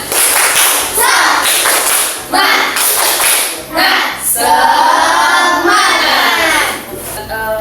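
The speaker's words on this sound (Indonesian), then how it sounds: "Semangat dulu, tepuk semangat." A class of schoolchildren performs the rhythmic tepuk semangat spirit clap, loud bursts of patterned hand clapping mixed with children's voices chanting along.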